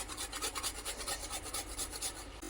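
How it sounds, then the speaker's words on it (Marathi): Nutmeg is grated by hand for an amla murabba, making quick rhythmic rasping strokes close by, fairly quiet and with no voices. "जायफळ घालायचे किसून"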